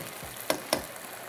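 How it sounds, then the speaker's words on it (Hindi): Salted potatoes fry in a pot for beef pulao, a faint steady sizzle under two quick sharp clinks close together. "यहाँ पर हमने रखे हैं आलू को, थोड़ा सा नमक इस पर छिड़क दिया और इसको मैं थोड़ा सा फ्राई करूँगी यहाँ पर।"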